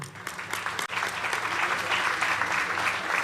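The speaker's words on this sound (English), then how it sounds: "Ladies and gentlemen, please clap hope into Al-Kebulan." Audience applause fills an awards ceremony hall, a dense steady wash of clapping from a large crowd that dips briefly near the start and then holds loud and even to the end.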